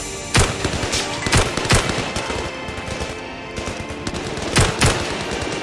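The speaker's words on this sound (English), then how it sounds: "he's on a machine gun" Bursts of machine gun fire in the VR shooter Zero Caliber, several rapid volleys crackling close and loud over a dense battlefield din, with sharp clustered shots near the start and again near the end.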